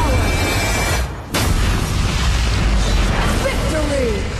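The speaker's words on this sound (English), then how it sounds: "Your team has destroyed a tower." A tower is destroyed in the mobile game Arena of Valor: a booming explosion and burst follow a brief dip in the game audio, with a spoken game announcement alongside.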